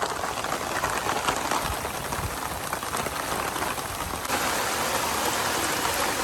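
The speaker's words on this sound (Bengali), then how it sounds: "এত জোরে বৃষ্টি পড়তেছে যেটা বলার মতো নাই" Heavy rain pours down in a dense, continuous hiss, loud and close, drumming steadily on surfaces without letting up.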